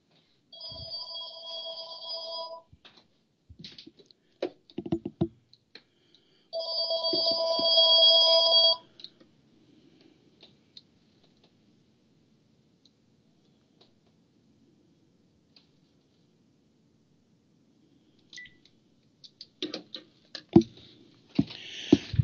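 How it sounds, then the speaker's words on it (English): An electronic telephone ringing in two bursts of warbling tone, then going quiet with faint clicks and handling as the receiver is taken off the hook; a few short knocks follow near the end. "I'm going to take it off the hook."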